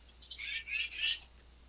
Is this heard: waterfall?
no